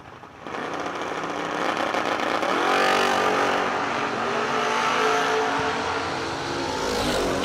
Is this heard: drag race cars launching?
yes